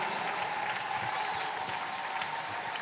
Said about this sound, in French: Acclamez, acclamez, acclamez.